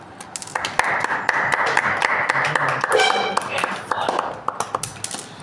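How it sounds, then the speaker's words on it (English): Audience clapping at a demonstration of making a magnet with a solenoid: a burst of scattered, sharp claps from a small group, irregular and close, running under a voice that keeps talking over them. "Oh yeah, clap. Everybody clap."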